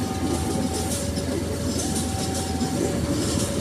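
A long Babaranjang coal train rolls past with a steady heavy rumble and rail noise, a faint high wheel squeal drifting in and out, continuous and fairly near.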